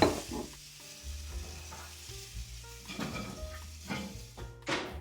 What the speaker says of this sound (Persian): مایتابه‌ای که گذاشته بودید توی فر رو بیارید و سیب زمینی ها رو بریزید توش.